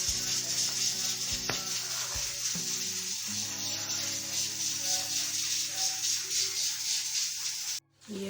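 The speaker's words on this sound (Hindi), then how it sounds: "हमने पकौड़े डाल दिए हैं, बहुत अच्छे तरीके से फ्राई हो रहे हैं" Besan pakoras deep fry in hot oil, giving a steady, close, unbroken sizzle that runs throughout with a few faint clicks and rattles, and no talking.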